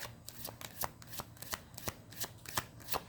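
Tarot cards are shuffled in a quick series of crisp riffling bursts, roughly ten sharp card slaps at an even rhythm, close and fairly quiet, with no talking over them.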